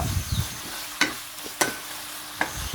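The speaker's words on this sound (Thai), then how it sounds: "ผัดต่อให้ทุกอย่างสุกให้หมดเลยนะครับ" Pork neck stir-fried with chili in a pan, a constant close sizzle punctuated by three distinct metallic spatula knocks spaced across the stretch.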